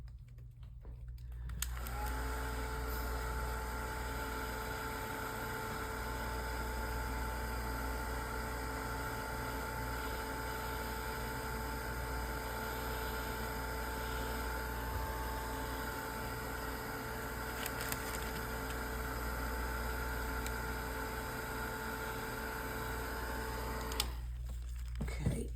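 Heat tool drying a painted art journal page, blowing as a loud, steady whirring hiss that starts abruptly, holds unchanged for over twenty seconds, then cuts off, alone with no talk.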